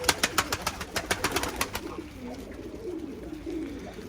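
Pigeons flutter and peck as feed is tossed to them, a quick run of sharp wing claps or taps at the start giving way to soft cooing and shuffling over a low background.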